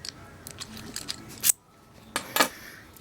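A SigTuna folding bike lock being slid back in and relocked, heard as a few sharp, close metallic clicks and snaps, with a short burst near the middle and a louder cluster toward the end.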